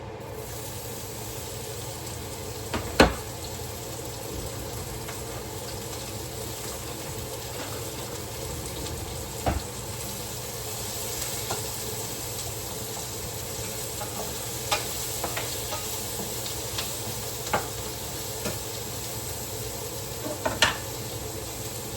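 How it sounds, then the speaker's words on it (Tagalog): Onions sautéing in the same pan used for pork chops, a steady close sizzle with occasional spatula clicks and scrapes scattered through, no talking. "So, the same pan po, igisa natin itong ano, sibuyas."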